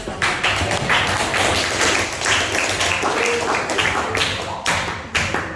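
A classroom of students claps for a fellow student, a dense, steady burst of many hands patting and tapping at close range, with a few thumps and faint voices mixed in.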